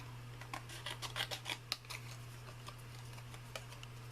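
Small scissors snip paper in quick, light clicks while fussy cutting around stamped images for a handmade card, a cluster of close crisp cuts followed by sparse single snips over a steady low hum.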